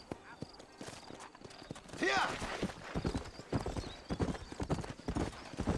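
Horse hooves clip-clopping in a steady gallop in the Red Dead Redemption game, close and continuous, with a brief whinny and people talking over it.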